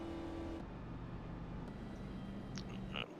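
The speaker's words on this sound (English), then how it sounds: "you can hear him. Sound coming from the car." Race car engines at Talladega in the iRacing sim, a steady loud drone that drops in pitch after a moment as cars run on, with brief higher squeaks near the end.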